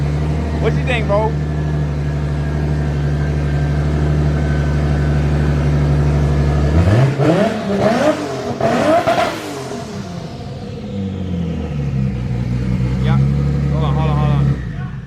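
A Mazda RX-7 with a swapped 2JZ engine and a Nissan GTR 34 exhaust: loud steady idle drone, then sharp repeated revs climbing and falling, a short lull and another quick blip, all close and very loud.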